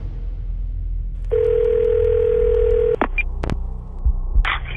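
A telephone dials the police for an emergency call. A steady dial tone holds for under two seconds, then a few quick dialing beeps and clicks follow, close and clear, with no voices.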